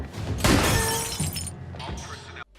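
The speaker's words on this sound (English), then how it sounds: "Yeah, you really killed the glass." Glass shatters loudly in a film scene as a thrown object strikes it, with a bright crash followed by tinkling debris and a sudden cutoff; talk-like sound blends with the noise.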